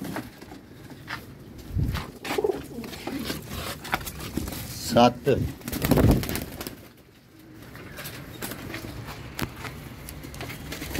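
Pigeons bought as flying birds coo and flutter close by in short bursts, with someone talking over them and counting aloud.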